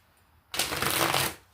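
A deck of tarot cards riffled once in a quick, crisp burst lasting about a second, close by, with near silence before and after.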